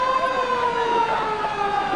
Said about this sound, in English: Now the siren will go before the second kick is taken, and there it is now.